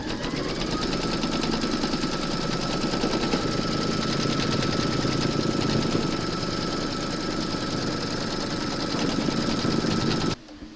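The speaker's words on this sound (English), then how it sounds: "Pop your hoop into your machine and stitch round number 4 to secure it." An embroidery sewing machine stitches an appliqué outline on hooped fabric, a loud, fast, steady mechanical chatter running continuously before stopping abruptly near the end.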